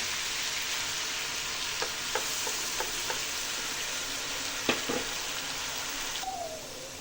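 Chicken that has already browned fries steadily in a pan with a ground spice paste stirred in, giving a continuous hiss broken by a few soft scrapes and clicks from stirring, close and moderately loud with no talking.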